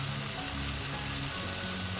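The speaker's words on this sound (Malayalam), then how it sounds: "ഇത്രയും ഇപ്പം ചേർത്ത് നമുക്ക് എണ്ണയിലൊന്ന് മൂപ്പിച്ച്" Ground spices such as turmeric, chilli and coriander powder sizzle steadily as they fry in hot oil for an okra curry, a dense continuous crackle with no pauses or talk.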